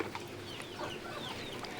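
Native free-range hens cluck in soft, scattered calls over a hushed background on a rainy day, faint and somewhat distant, with no voices.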